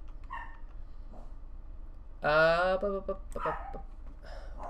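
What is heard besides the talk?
dog barking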